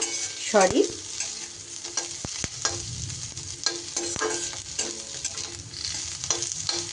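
Onion, garlic and green chili stirred and fried in a pan for a Bengali yardlong bean bharta, a steady sizzle with repeated close scrapes and clinks of a spatula, loud at the start and continuing evenly throughout, with no talking.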